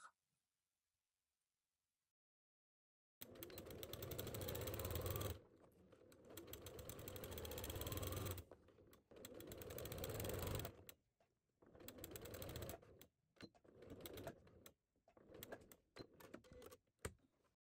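A sewing machine stitches fabric in several fast whirring bursts, close and fairly loud, with short pauses between runs and no talk.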